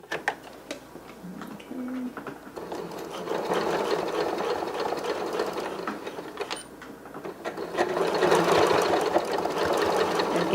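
Sewing machine stitching a fur scarf, running steadily with a fast mechanical ticking that swells and grows louder toward the end, close and continuous with no talking.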